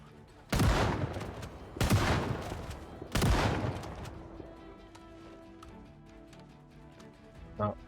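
Three loud, widely spaced shotgun blasts from a zombie survival game, Project Zomboid, each with a sharp crack and short decaying tail, followed by quieter ambient rumble and a faint clatter.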